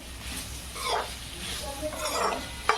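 Onions with ginger-garlic paste being stirred in a pan for a veg biryani, a soft low sizzle with scraping strokes and a sharp utensil clink near the end, with faint talk in the background.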